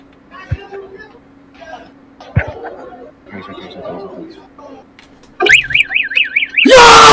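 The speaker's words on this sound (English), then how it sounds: "just pulled a fucking fire alarm?" After scattered chatter and laughter in a school, a loud electronic fire alarm starts wailing in a rapid warbling pattern, followed by a harsh blaring tone.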